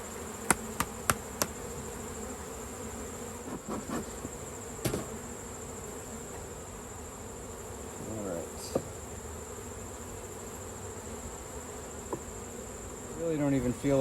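Steady low insect buzzing from a mass of honey bees in an open hive, close and continuous, with a few sharp knocks and clicks scattered throughout.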